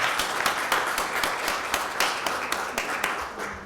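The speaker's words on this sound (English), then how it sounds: "So another round of applause, one for the commissioner for the great work he was doing." An audience at a public event on heir property rights applauds steadily, a dense run of many hands clapping close and even throughout, with no speech over it.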